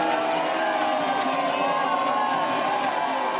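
Spectators cheer and shout at a women's biathlon pursuit race at the Winter Universiade, a dense continuous roar of crowd noise with whoops, steady and loud throughout.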